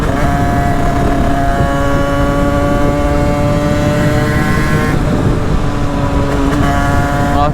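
A Derbi moped engine revving loudly and close, a buzzy two-stroke drone holding steady high revs with a brief change in pitch partway through; no talking.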